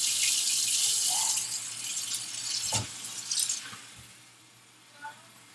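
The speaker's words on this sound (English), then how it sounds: "And then you top the rest off with hot water." Hot water gushing from a tap into a container while making homemade laundry detergent, a loud steady splashing stream that cuts off after about two seconds, followed by a few quieter clunks and drips.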